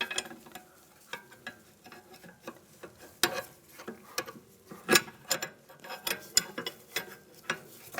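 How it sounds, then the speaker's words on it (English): An 18mm wrench tightening a sway bar link nut on a 2001-2006 BMW 325Xi, close-up metallic ratcheting clicks and small knocks in an irregular rhythm, with no talk. "And again, I'm going to use the 18mm wrench."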